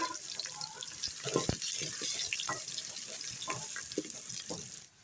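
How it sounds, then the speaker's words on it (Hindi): Onions frying in hot oil for an arbi chicken dish, a soft continuous sizzle with scattered crackles and the occasional scrape of a spoon, fairly quiet and steady. "अब हम इसमें प्याज ब्राउन कर लेंगे।"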